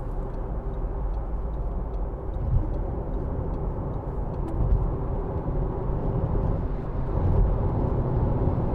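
A 2015 Audi A1 1.4 TFSI with S tronic gearbox pulls hard at motorway speed, giving a steady, loud cabin drone of engine and road noise that swells slightly as it accelerates, with no talking.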